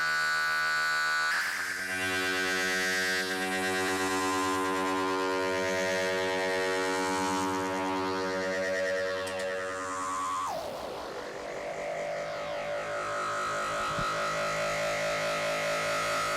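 A Buchla 297 Infinite Phase Shifter with the resonance turned up sweeps a buzzy, harmonically rich tone. Its notches glide steadily through the sound for about ten seconds, then the timbre shifts abruptly to a different resonant character, with no speech.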